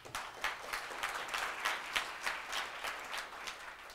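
Conference audience applauding in a hall, a steady burst of many hands clapping with rhythmic peaks, fairly close and filling the room, no voices over it.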